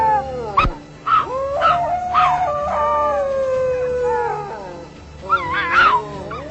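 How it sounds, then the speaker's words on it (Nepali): A dog howls in long, wavering cries: several short rising wails, then a sustained mournful tone, then another quivering burst near the end. The howling is close and clear with no voices. "कुकुर रुने आवाज पनि चलिरहेको थियो।"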